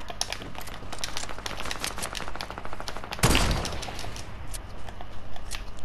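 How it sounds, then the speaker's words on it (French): Gunfire in a first-person shooter video game, steady rapid clicking and cracking bursts throughout, with one louder, sharper shot standing out midway. "Ensuite on prend un petit sniper."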